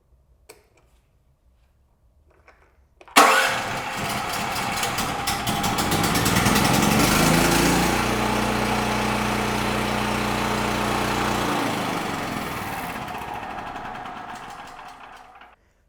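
A portable 8.0 kW gasoline generator is key-started with a brief cranking burst, then settles into a steady, loud running drone that holds close and constant for the rest of the stretch.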